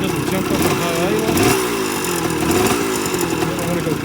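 A 1978 Kawasaki KE100 two-stroke motorcycle engine idles steadily close by, a loud buzzing putter with slight wavering in pitch and no people talking.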